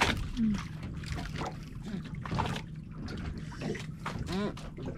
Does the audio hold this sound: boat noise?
yes